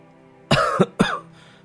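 A man coughs in a cold, drafty house with broken roof tiles: two or three harsh, close coughs in quick succession, then a faint trailing breath, with no speech.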